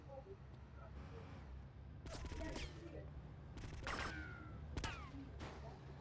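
Bursts of gunfire crack out in a rapid shootout in the video game Vice City, several sharp volleys over a faint background, with a voice briefly audible.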